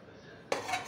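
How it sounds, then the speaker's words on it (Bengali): Fish pieces dropped into a pan of boiling mustard-paste fish curry: a sudden loud hiss and bubbling burst halfway through, following quieter simmering, with no talking. "আমরা এবার মাছ ছেড়ে দেব।"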